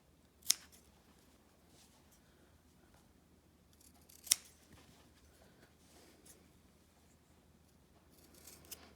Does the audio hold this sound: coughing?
no